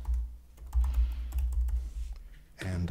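Keys tap quietly on a computer keyboard as an email address is typed in, a short run of soft clicks over a low hum.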